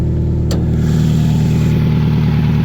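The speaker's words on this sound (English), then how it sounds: "It runs good. Everything seems fine. It has a nasty exhaust leak" Toyota car engine from a junkyard running steadily with a nasty exhaust leak past the catalytic converter, a loud, even low rumble with rhythmic exhaust pulsing and one brief sharp tick near the start.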